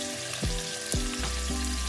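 Pork spare ribs fry in a hot pan, a steady loud sizzle with a few sharper crackling bursts, close up and with no voices.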